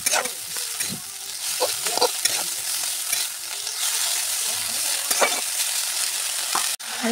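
Fiddlehead ferns fry with turmeric and salt in a pan, giving a steady close sizzle broken by repeated scraping stirs of a utensil and a sharp knock near the end.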